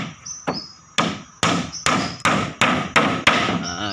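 Nails are hammered into wood, about eight sharp, evenly spaced hammer blows ringing out close and loud, with no talking.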